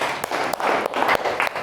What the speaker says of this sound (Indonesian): Tepuk tangan buat Jaiden